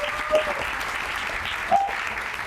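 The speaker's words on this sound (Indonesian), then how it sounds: "tepuk tangan untuk Dandi dan Tova." Audience applause at an alumni sharing session, a steady dense wash of clapping from a seated crowd. Brief voice tones rise faintly over it, with no clear speech.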